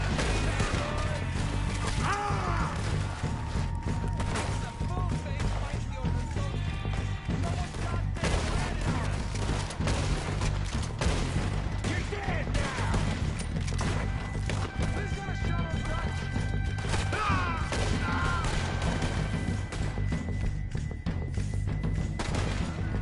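A Red Dead Redemption 2 shootout, with dense, continuous gunfire, thuds and wooden splintering under a loud game mix, shots cracking throughout at close and middle distance while voices shout over the fight.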